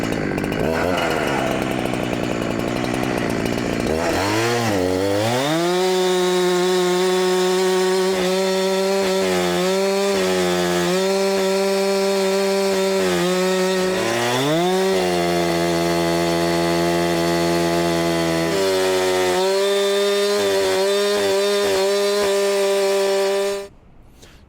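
A Chinese chainsaw bucking wood into firewood, revving up after a few seconds and then holding a loud, steady, close-up snarl with brief dips in pitch as it cuts, before cutting off abruptly at the end.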